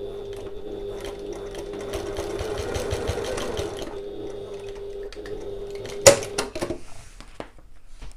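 A sewing machine stitches across the short end of a bag seam in a fast, even run of needle strokes, then stops, followed by a sharp clunk and brief handling rattles.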